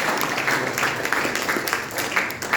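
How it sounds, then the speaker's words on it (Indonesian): A crowd at a morning opening ceremony applauds in a sustained wash of clapping with slight swells, steady and fairly loud for a few seconds. "Sekali lagi mari kita berikan tepuk tangan untuk pembukaan"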